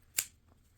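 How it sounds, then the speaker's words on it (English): Scissors give one quick, crisp snip through crochet yarn, close and faint in an otherwise quiet room. "I'm going to go ahead and cut my yarn"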